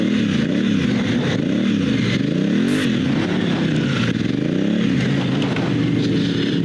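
Motorcycle engine revving hard and steady as a Motoz Tractionator GPS 50/50 adventure tire spins and digs a hole in dirt, with wavering engine pitch and gritty scraping throughout, loud and close with no talk.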